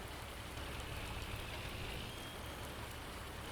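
Steady video game rain in Farming Simulator 19 falls continuously, a soft even hiss of drops pattering on a surface with no voices, holding constant throughout.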